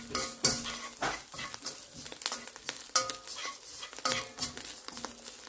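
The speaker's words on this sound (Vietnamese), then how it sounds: "Trộn lên." A dried shrimp mixture being stirred for Vietnamese rice rolls, with repeated close scraping and clinking strokes over a light sizzle, no talk.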